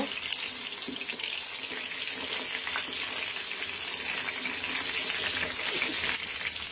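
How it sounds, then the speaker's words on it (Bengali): Continuous sizzling of chicken frying in a hot pan, a steady close crackle and hiss with no voices. "বেশ কয়েকবার উল্টে পাল্টে আমি মাংসগুলো ভেজে নিব।"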